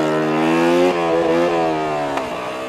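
Motorcycle engine revving hard in second gear while the rider holds a wheelie, pitch rising and falling through a few surges before easing off, loud and close with no talking.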